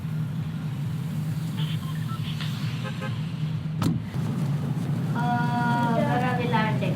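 The Fortnite battle bus flies in game audio as a steady engine hum rumbling low throughout, with a sharp click midway and people talking over the end.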